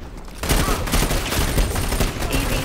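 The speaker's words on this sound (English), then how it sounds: "Ah, I missed all my shots." Sustained automatic gunfire rattles continuously in the online shooter Dirty Bomb, loud and dense from the half-second mark onward, with a brief quieter lead-in before it starts.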